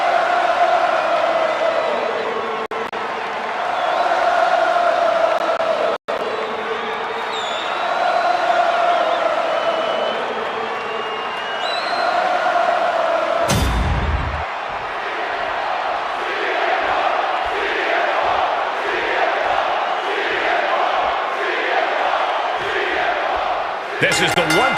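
A wrestling arena crowd roars and chants as Rollins makes his entrance, loud and sustained throughout with rhythmic chanting, one sharp crack partway through and a deep booming hit later on.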